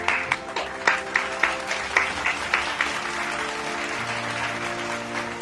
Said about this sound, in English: All of you to give a round of applause to yourselves